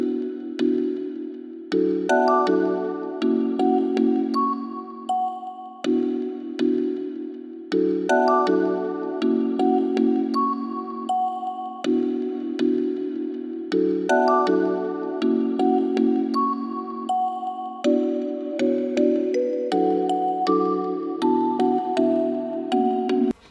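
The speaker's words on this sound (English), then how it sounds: "I'm using it on this little pluck here" Short plucked synth notes play a repeating melodic pattern over a steady low bass, evenly paced and fairly loud, with no voices.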